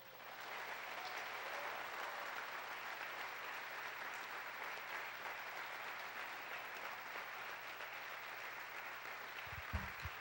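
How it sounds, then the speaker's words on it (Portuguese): Congregation applause at an evening Feast of Tabernacles church service: steady, dense clapping from a large crowd, held at an even level for about ten seconds and heard from a distance. "Palmas para Jesus."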